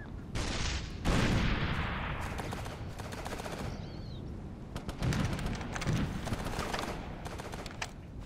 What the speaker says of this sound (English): Shooting at an AT gunner.